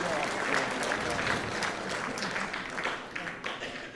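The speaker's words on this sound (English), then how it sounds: "how about a big round of applause for your parents" A school band concert audience applauds the students' parents with steady, crowded clapping that tapers slightly toward the end, a voice faintly audible beneath it.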